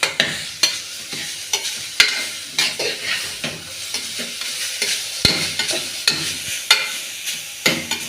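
Grated carrot is stirred and sautéed in a pan for carrot halwa, a rhythmic series of loud close scraping stirs over a light sizzle.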